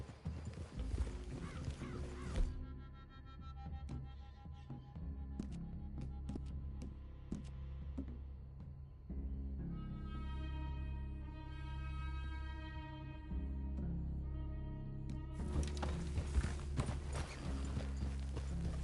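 Horses' hooves clip-clop along in Red Dead Redemption 2, a steady walking rhythm over low game ambience and music, with a few louder hoof strikes standing out.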